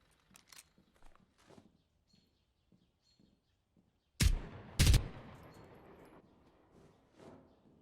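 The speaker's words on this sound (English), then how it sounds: "Few shots going off, but none really connecting" Gunshots ring out in a Zero Hour tactical shooter match: faint scattered steps and clicks lead up to two loud, sharp shots close together, then a decaying echo and a quieter shot after it.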